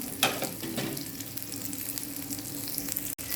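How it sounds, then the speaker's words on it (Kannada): Coriander seeds, fenugreek and onion fry in a pan for a crab curry, a steady close sizzle with faint stirring scrapes. "ಇದನ್ನು ಫ್ರೈ ಮಾಡಬೇಕಲ್ಲಿ ಚೆನ್ನಾಗಿ ಫ್ರೈ ಆಗಬೇಕು."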